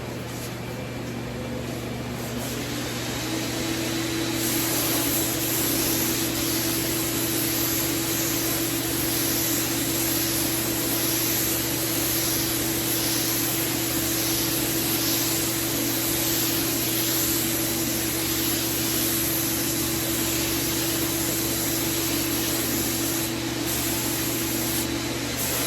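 Spray gun laying down a coat of Renner 643 primer onto wood, a steady loud hiss of atomized spray with a constant motor drone underneath, continuous and close throughout.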